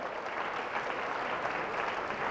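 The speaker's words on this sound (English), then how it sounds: "Clap for that." An audience at an advocacy award speech breaks into steady, dense applause, many hands clapping together at moderate distance, filling the moment without any voices.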